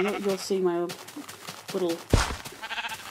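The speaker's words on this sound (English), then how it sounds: "There's some sheep over there." Blocky sheep bleat in Minecraft on an iPad, with two or three short wavering bleats heard under someone talking over them.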